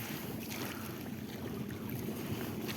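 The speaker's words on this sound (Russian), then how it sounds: "Вот она, эта моторка едет, которая волны большие делает." Motorboat passing on a lake while the listener is out trolling from a boat, a steady broadband engine and hull wash with wind buffeting the microphone, continuous and moderately distant, no voices.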